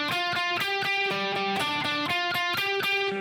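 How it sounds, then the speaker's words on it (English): A fast electric guitar riff played with alternate picking, down-up on each note of a steady repeating four-note pattern, bright and upfront. "with alternate picking, going down up on each of those 4 notes"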